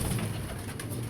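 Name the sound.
pigeon cooing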